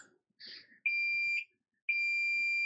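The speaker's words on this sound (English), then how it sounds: "All right, there's two long beeps." Two long, steady electronic beeps from a multimeter continuity test, each lasting about half a second with a brief gap between, clear and close, after a short soft rustle.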